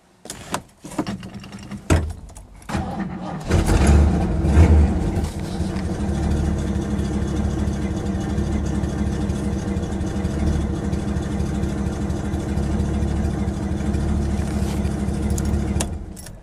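A 1970 Ford Torino GT 429 V8 cranks with a few sputters, catches and settles into a steady, rumbling idle that continues loud and close; its exhaust needs work, with rusty mufflers and tailpipes.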